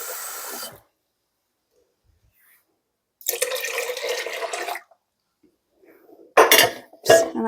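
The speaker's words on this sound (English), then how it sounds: "I'll add my 4 cups of cold water." Cold water pours steadily into a saucepan for over a second, then a pause, followed by two clanks of metal cookware close by.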